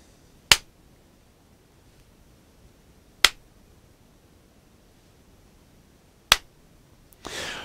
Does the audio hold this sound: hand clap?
yes